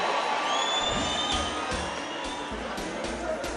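A crowd at a Jubilee party political gathering claps and cheers for arriving dignitaries, forming a dense, steady roar with whistles and shouts throughout.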